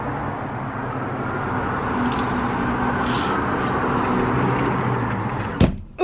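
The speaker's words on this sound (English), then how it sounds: "there's a lot of traffic over there" Chicago city street traffic makes a steady, muffled roar throughout, with no voices, and a sharp click sounds just before the end.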